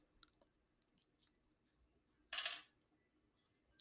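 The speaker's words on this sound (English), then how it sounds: "The first thing I'm going to do is roll my dice." A brief clatter of dice rolled for a kindergarten subtraction lesson, a short rattling burst lasting about half a second amid a few faint ticks in an otherwise quiet room.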